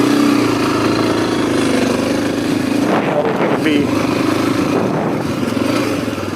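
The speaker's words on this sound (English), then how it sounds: "But the engine is running just like it always has." A Suzuki DRZ250 motorcycle engine idles steadily and loudly up close after an oil-loss incident, with a continuous drone and someone talking briefly over it.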